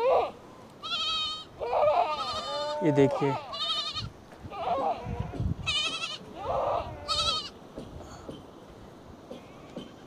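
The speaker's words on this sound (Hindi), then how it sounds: "ये वाली बकरी अपने मेमनों को दूध पिलाने के लिए जा रही है क्योंकि इसका मेमना चिल्ला रहा है।" Himalayan goats and a young goat kid bleat repeatedly from close by in a mountain herding setting, wavering cries coming in bursts with short gaps, while someone talks over them.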